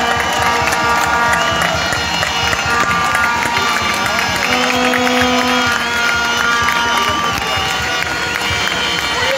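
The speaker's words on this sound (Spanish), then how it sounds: "Fuerte el aplauso, muchas gracias a los compañeros Elvia Pereira, Gustavo González" A rally crowd claps and cheers in a loud, dense outdoor mass of noise, with shouts and whistling voices mixed into the steady applause throughout.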